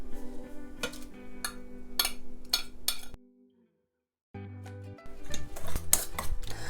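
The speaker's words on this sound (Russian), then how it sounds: "4 крупных или 5 маленьких яиц необходимо взбить венчиком" Four large or five small eggs are beaten with a wire whisk in a bowl for an onion pie, clinking and tapping against the dish in quick bursts, with a brief silent gap midway.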